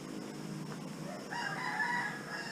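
A Rhode Island Red rooster crows among chickens in a backyard flock, a single faint call rising partway through and heard from a distance over low background hum.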